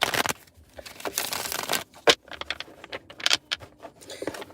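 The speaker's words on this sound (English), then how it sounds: "I'ma shuffle these cards up and then we gonna get right into it." A deck of tarot cards is shuffled up close, with irregular bursts of riffling, flicking and papery crinkling, faint and uneven, with no talking over it.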